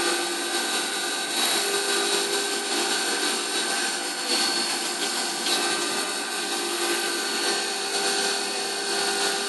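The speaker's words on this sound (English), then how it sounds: "So now it's doing the chamfer on the two internal pockets." A CNC machine mills chamfers on an FX-4WD top arm, cutting the internal pockets with a steady, loud, continuous whine and hiss of the spindle and cutter, with constant tonal bands and slight fluctuations throughout.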